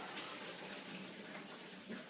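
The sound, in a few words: draining pasta water through a colander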